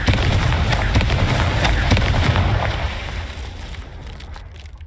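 Blasting fire spell from Hogwarts Legacy, a loud, dense rumbling burst with crackling bangs that fills the clip and slowly fades toward the end.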